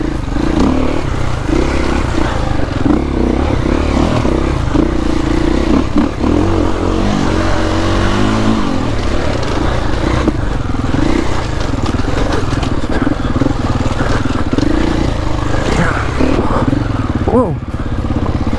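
An enduro motorcycle rides through woodland, its engine droning and revving steadily and loudly throughout, with clattering over rough ground and a voice talking over it.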